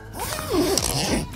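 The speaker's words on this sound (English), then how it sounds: "zip it up" The zipper on an Oztrail Mitchell Expedition swag is pulled closed in one loud, close, continuous run lasting about a second, with no voices.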